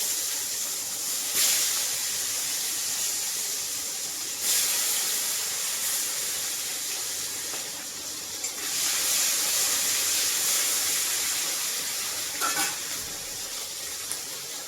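Bay leaf and tomato sizzle in hot oil, a dense, steady frying hiss with faint crackles that runs without pause, close and fairly loud, no talking.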